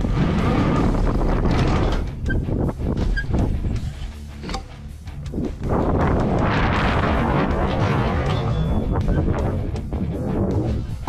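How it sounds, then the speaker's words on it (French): Strong wind buffets the microphone at a concrete BMX bowl, a loud roaring rush that dips briefly in the middle before surging back. "il y a énormément de vent"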